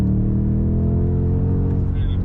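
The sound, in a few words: new BMW M5 accelerating on track on cold motors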